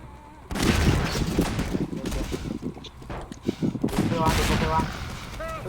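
Gunfire aimed at an explosive barrel in the Half-Life 2 video game, a dense burst of rapid shots and blasts that runs through the clip with voices talking over it.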